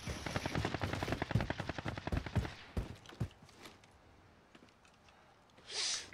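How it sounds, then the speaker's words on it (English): Gunfire beyond a hill in a battle royale video game: about three seconds of rapid automatic bursts, then a few scattered single shots fading into near quiet, with a brief hiss at the end. "there's gunfire beyond the hill"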